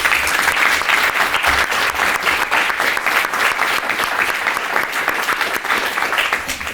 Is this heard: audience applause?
yes